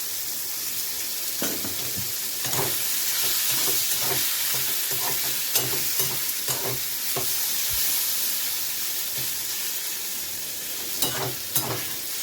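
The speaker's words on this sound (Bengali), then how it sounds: "কেননা আলুটা আর ইঁচড়টাও একটু ফ্রাই করতে হবে।" Potato and raw jackfruit pieces fry in a little oil, a steady hiss of sizzling with scraping and stirring clatter from a spatula throughout, close and alone without voices.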